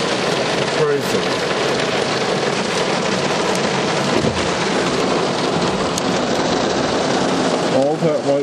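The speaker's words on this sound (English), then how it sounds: "All that white stuff is hail." Hail and heavy rain pound a car driving on an expressway, a loud continuous roar of drumming on the roof and windshield with road rumble beneath, steady throughout.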